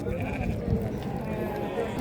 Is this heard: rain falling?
no